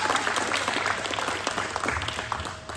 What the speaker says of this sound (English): Give Joe a round of applause